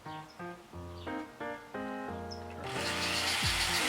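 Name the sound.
rotary tool with flex shaft running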